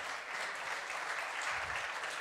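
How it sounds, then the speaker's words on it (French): Audience at a start-up trophy award ceremony applauds steadily, a dense, sustained wash of clapping from many hands with no speech over it. "Vous pouvez l'applaudir."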